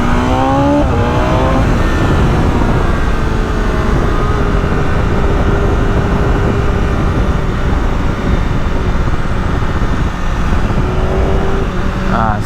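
A 2022 BMW S1000RR sports motorcycle accelerates hard, its engine screaming loudly and rising in pitch through gear changes, close up and continuous.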